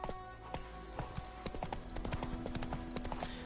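Geralt's horse Roach trotting in The Witcher 3: Wild Hunt, hooves clip-clopping in a quick steady rhythm, close and clear over a soft game ambience.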